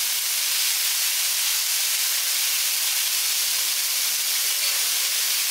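Sprouted grains sautéing in a little oil in a pan give off a dense, even, steam-like hiss that stays loud and constant throughout, with no voices.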